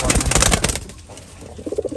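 Fancy pigeons in a loft give soft, low cooing calls, a short burst close by, then a quieter pause before another run of throaty coos near the end.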